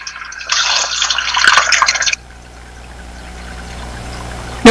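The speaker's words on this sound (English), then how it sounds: "we are going to put the plantain in the oil." Plantain slices dropped into hot oil that began near 340 degrees, a loud crackling sizzle for about two seconds, then a faint steady frying hiss near the microphone.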